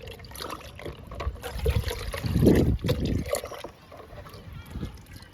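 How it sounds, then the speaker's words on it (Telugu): Liquid feed is poured onto curry leaf plants, giving soft, uneven trickling and splashing in short bursts that swell briefly in the middle, heard up close at low volume. "ఈరోజు ఈ లిక్విడ్ని నేను కరివేపాకు మొక్కలకి ఇస్తున్నాను. ఇచ్చేద్దామండి లిక్విడ్ని."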